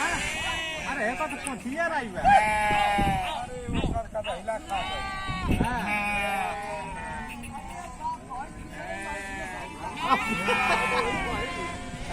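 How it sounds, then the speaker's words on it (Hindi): A flock of sheep on a village farm after heavy rain and flooding bleats repeatedly, many overlapping calls near and far, with someone talking over them. "देख लीजिए सब भेड़ कहाँ रह रही है।"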